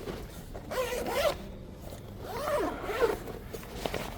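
Zippered storage bag for the wind deflector of a 2026 BMW M4 Competition Cabriolet being unzipped, two long rasping zipper pulls close to the mic, separated by a brief pause, with faint handling noise.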